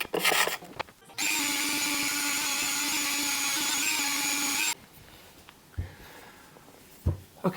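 A power tool buzzes steadily and loudly for about three and a half seconds while sanding old finish off a wooden walking stick. Brief handling knocks and rubs come before and after, with no talk.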